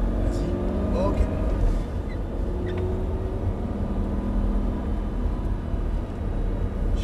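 A car engine pulls steadily through an on-track driving drill toward a chicane and cones, a continuous low drone holding near and fairly loud throughout while people speak over it.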